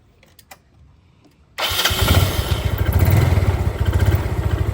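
A Yamaha Mio Sporty scooter engine starts abruptly after a quiet moment, then settles into a loud, steady putter close by.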